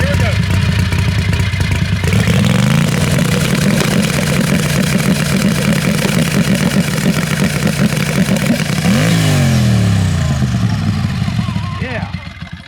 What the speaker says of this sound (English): the boys are gonna try to blow up the turbo now with a two-step check